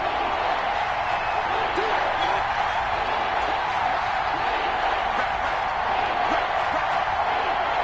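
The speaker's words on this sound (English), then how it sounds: "The crowd getting into it as we come up on a big 3rd down." Football stadium crowd roaring steadily ahead of a big third-down play, a dense continuous wash of cheering and noise with no breaks, loud and enveloping throughout.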